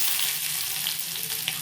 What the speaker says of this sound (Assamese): এতিয়া প্ৰথমে মই কেৰাহীত তেল গৰম কৰিলোঁ আৰু তাতে দিম পিঁয়াজ